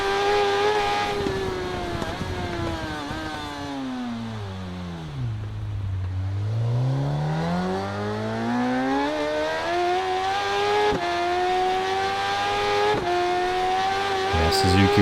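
A Suzuki motorcycle in a RIDE 3 road race howls through its gears, its engine pitch dropping hard into a corner and then climbing back as it accelerates away, loud and close for about fifteen seconds.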